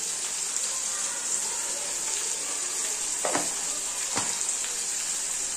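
Chopped onion fries in a pan for a spicy sprouted moth bean curry, giving a soft, steady hiss of sizzling with a couple of brief crackles.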